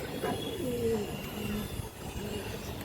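A male Pangkhi pigeon coos in soft, low rolling calls, repeated a few times over steady background noise.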